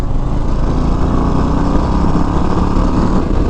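A 2024 Harley-Davidson Low Rider ST pulls hard in third gear, its engine a loud, steady, rumbling drone heard up close from the rider's position with wind noise, no talk.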